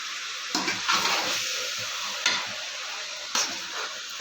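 Chicken being stirred with masala as it fries in sesame oil, giving a steady close sizzle with a few louder scraping stirs.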